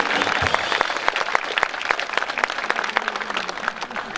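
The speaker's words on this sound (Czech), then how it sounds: "prosím vás, zatleskajte nejmladší muzikantovi" An audience at a brass-band music pilgrimage at Svatý Hostýn applauds the youngest musician, dense hand claps rattling steadily at even strength for several seconds with a faint voice underneath.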